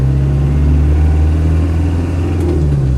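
Land Rover 90 200TDi diesel engine under way and accelerating: a loud, steady low drone and rumble heard from inside the moving vehicle, with road noise and no speech.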